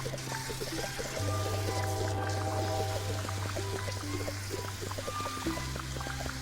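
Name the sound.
pouring water in the video game Fresh Start Cleaning Simulator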